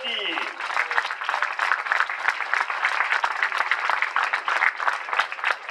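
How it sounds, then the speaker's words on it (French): The audience applauds steadily at the Elite MX1 motocross podium at Pernes, with dense, even clapping throughout and a brief voice at the start. "on les applaudit"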